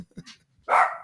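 A pet dog barks once, fairly close and loud, after a few faint indoor sounds, with no talking over it.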